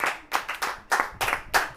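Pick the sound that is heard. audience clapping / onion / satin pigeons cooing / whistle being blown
audience clapping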